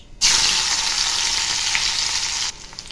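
Chopped green chilli and curry leaves hit hot oil with mustard seeds in an upma tempering, bursting into a loud, sudden sizzle that holds steady and then drops away to a low hiss.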